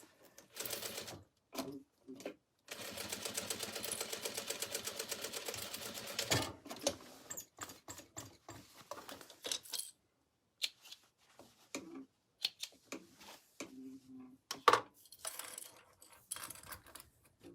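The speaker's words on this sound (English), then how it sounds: "I'm going to again sew that one line across." A sewing machine runs a steady rapid stitch along a seam on a stabilized canvas tote bag for a few seconds. Brief handling clicks and rustles of the fabric follow, all close and moderately quiet.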